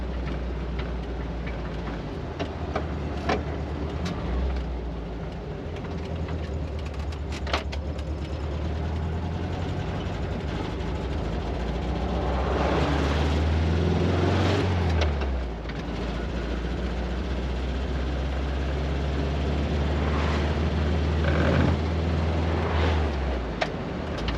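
Air-cooled engine of a 1973 VW Thing humming steadily while driving, a low droning rumble that rises and falls with speed, mixed with road and wind noise and occasional small rattles and ticks.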